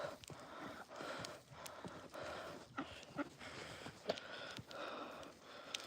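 A horse on a snowy farm moves nearby with soft, irregular hoof thuds and snorting breaths, faint against a hushed outdoor background.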